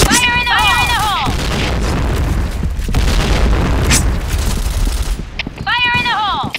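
Grenade blasts and heavy gunfire in a Counter-Strike style shooter game keep up a loud, sustained roar for several seconds, with shouted radio callouts at the start and end.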